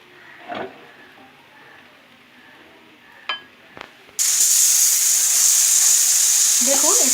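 Dal fries in a kadai while someone stirs it. After a few seconds of quiet with faint clinks, a loud, steady sizzling hiss starts abruptly and continues to the end.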